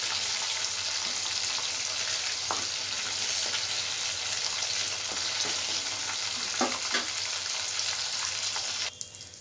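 Chicken pieces fry in hot oil with a steady, close hiss and crackle, broken by a few soft scrapes of stirring, and no voices over it.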